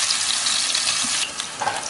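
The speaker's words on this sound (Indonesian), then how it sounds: "Kita akan tumis sampai harum." Sliced shallots and garlic sizzle steadily in hot oil in a wok, a dense, close crackling with a spatula stirring near the end and no voices.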